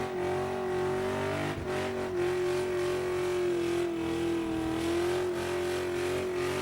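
A car doing a tyre-spinning burnout during Summernats burnout eliminations, with a loud sustained engine drone holding a steady high pitch and a dense roar of spinning tyres throughout, heard at some distance.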